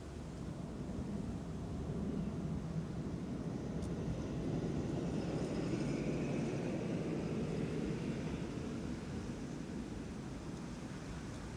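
A Transavia airliner at Amsterdam Schiphol Airport passes as a steady, distant jet roar that swells gently in the middle and eases off, with no talk over it.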